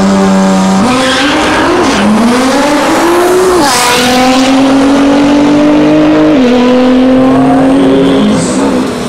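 Red Devil Nissan GTR with stock turbo making a fast drag-strip pass, engine screaming loud and close through rising gear pulls with sharp shift drops, continuous for the whole stretch.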